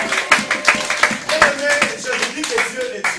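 A church congregation at a Sunday service applauds rhythmically, a dense run of loud, close claps in a steady beat while voices cry out over them.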